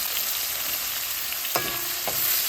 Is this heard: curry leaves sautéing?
yes